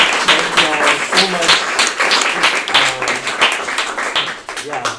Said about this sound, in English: Let's give a quick round of applause to our four panelists.